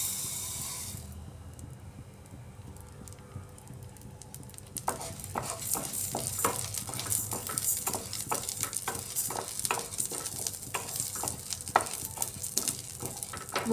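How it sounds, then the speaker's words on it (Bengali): Mung dal frying in a little oil in a kadai on a gas stove. It starts as a quiet, steady sizzle, then turns into a busy run of close, sharp scraping and rattling as the lentils are stirred. "এবার এই তেলের মধ্যে আমি মুগ ডালটা ভেজে নিচ্ছি।"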